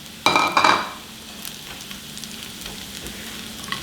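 Sliced, already-fried tempeh tipped into a hot pan with aromatics and stirred, a loud clattering splash and sizzle at first, then a softer steady frying hiss with light scrapes.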